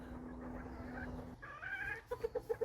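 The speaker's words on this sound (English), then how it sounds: "We've actually got a couple of broody silkies in broody towers." Broody silkie hens give soft low clucks and murmurs close by, ending in a short run of rhythmic clucks, amid faint background noise and with no talk.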